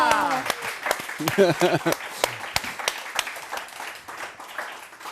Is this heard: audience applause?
yes